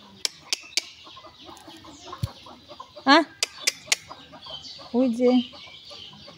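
Free-roaming chickens around a rural homestead give sharp, scattered clucks and a couple of longer squawking calls nearby, while a person briefly speaks.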